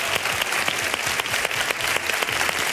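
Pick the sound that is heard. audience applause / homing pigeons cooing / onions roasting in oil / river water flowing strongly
audience applause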